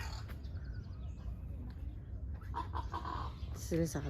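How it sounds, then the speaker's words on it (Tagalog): Birds, including crows, chirp and cluck in the open of a park in Mexico amid steady outdoor rumble, with a few brighter calls rising near the end. "Oh, ang dami ding ibon."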